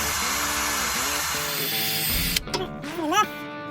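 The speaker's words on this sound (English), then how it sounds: "I got this cool little brush on the drill" An electric drill whirs a small cleaning brush against a Jeep Cherokee Dana 30 differential, a steady close high whine with a bristly hiss that wavers in pitch, then stutters and stops near the end.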